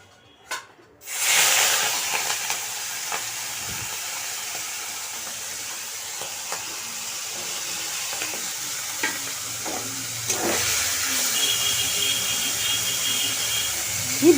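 Prawns coated in salt and turmeric hit hot oil with a sudden loud sizzle, then fry with a steady crackling hiss and occasional pops and utensil clinks, with a brief murmur of talk.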